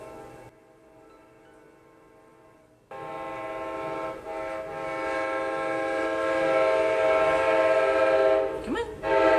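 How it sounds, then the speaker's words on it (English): A train in downtown Orlando rumbles past close by, loud and steady, its engine noise building over several seconds with a brief squeal near the end. "Well, we have a train every 5 minutes."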